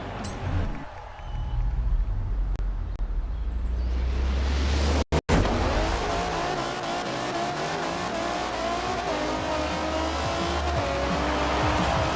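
A Jaguar race car in the Forza Horizon racing game roars loudly and steadily at speed, with tire squeal. The engine sound cuts out briefly partway through, then the sustained engine drone and road noise carry on with no talking.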